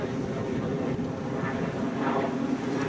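An aeroplane flies over a house, producing a steady low, distant rumbling drone heard outdoors for a few seconds with slight wind noise and no talking.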